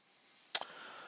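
One crisp computer mouse click, close and isolated, followed by a faint steady hum.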